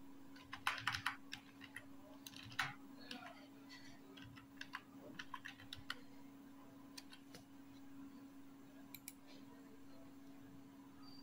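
A computer keyboard is tapped while a password is entered, giving faint, irregular clicks in short bursts over a steady background hum.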